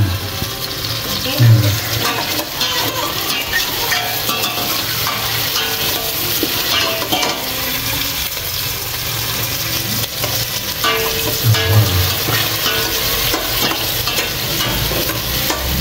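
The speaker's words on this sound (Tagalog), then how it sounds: "Maganda na yung pagkakagisa natin" Food sautés in a pan until browning, a loud close sizzle with repeated scraping and stirring sounds throughout.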